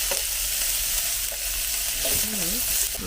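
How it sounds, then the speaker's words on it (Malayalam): Steady sizzling of mustard seeds, onions and green chillies frying in hot oil, with occasional stirring scrapes and a brief tonal squeak near the end; no voices. "ആദ്യത്തെ കടുക് പൊട്ടിച്ചിട്ട് സവാളയും പച്ചമുളകും കൂടെ ചേർത്തിട്ട്"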